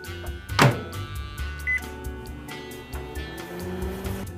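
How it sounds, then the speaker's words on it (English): A microwave oven hums steadily while heating a slice of pizza alongside a glass of water, with a brief beep-like tone and some clatter near the start. "if you heat up a piece of pizza in the microwave, you can keep the crust crispy if you also heat up a glass of water."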